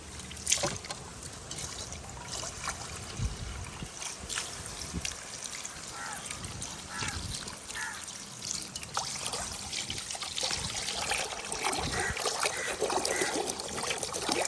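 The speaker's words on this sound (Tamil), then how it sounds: "தண்ணி ஊற்றி வைக்கிறேன்" Water poured into a pot while cooking a Jaffna-style fish curry, a steady trickling splash running for the whole stretch, close and fairly loud, with faint background voices now and then.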